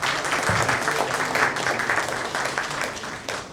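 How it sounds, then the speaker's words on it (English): A seated audience claps steadily for guest speaker Ankit at the end of an interview session at a media and AI event, a dense, even wash of applause for the whole stretch that thins slightly at the end. "Could you have a round of applause, please, for Ankit?"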